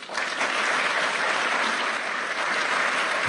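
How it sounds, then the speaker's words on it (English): Thunderous applause from a large audience, dense continuous clapping that holds steady at full strength from start to finish. "That sounds like a thunderous applause"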